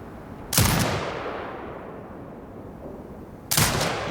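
Two heavy bursts from an automated turret in Sniper Ghost Warrior Contracts 2, about three seconds apart, each a loud sharp blast trailing into a long fading rumble.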